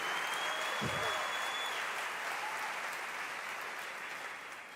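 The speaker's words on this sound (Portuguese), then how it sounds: "Aplauda bem forte ao Senhor pela vida deste" A church congregation at a large youth gathering applauds loudly, a thick sustained wash of clapping that slowly fades, with a brief low thump near the start.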